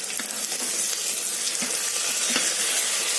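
Carrot and tomato going into a hot pan for spicy masale bhaat with turmeric, a loud close sizzle with splashy bursts as the pieces drop in, no voices.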